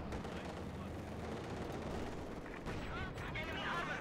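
Machine gun fire and battle noise in the strategy game Company of Heroes 2, a dense continuous rattle of shots and explosions at low level beneath a commentator's voice.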